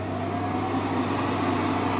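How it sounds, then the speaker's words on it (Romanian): A microwave oven running at full power from a battery inverter fed by a LiThink Mini Pro 12V 314Ah battery gives a steady, fairly loud, close hum with a constant low drone and no talking. "Hai să-i dăm drumul pe maxim. Vreo 3 minute, să zic, la cuptorul cu microunde."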